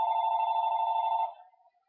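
A telephone bell rings in one steady, bright burst of about a second, loud and close, then cuts off and fades into a short decaying tail.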